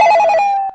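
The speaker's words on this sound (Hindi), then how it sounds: "फोन उठा लो रे, फोन उठा लो" A telephone bell rings late at night, one short, loud, close trill that cuts off abruptly, with no voices over it.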